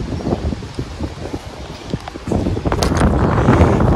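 Wind gusting across an open golf course, a steady broadband rush that swells louder and more forceful in the second half, with no voices present.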